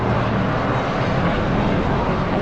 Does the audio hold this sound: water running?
no